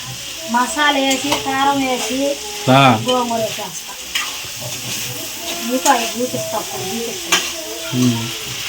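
Tomatoes, onions and green chilies fry in a pan for gongura chicken, with a steady sizzle and hiss and occasional stirring. A voice talks over much of it.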